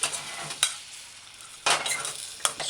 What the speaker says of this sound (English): You gotta stir fry the tomato with the other ingredients and allow the tomato to kind of break down